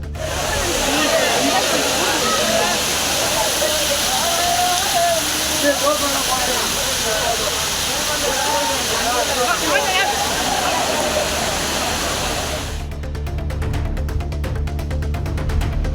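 Kavi Aruvi waterfall at Aliyar pours in a continuous heavy roar while crowds of tourists bathe in it, with voices faintly mixed in and the noise cutting to a different texture near the end.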